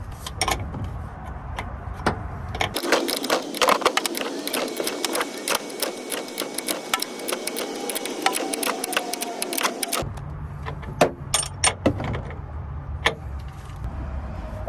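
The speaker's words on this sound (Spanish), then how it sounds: "Nueve de 16 para apretar la tuerca." A 9/16 wrench tightening a nut on a Toyota Tacoma rear shock absorber, a run of rapid metallic ratcheting clicks between quieter stretches of workshop ambience.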